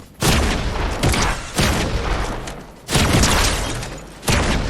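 Grenades and fire bombs going off in a video game, four loud booming blasts spaced a second or so apart, each a sharp broadband crack followed by a rumbling decay.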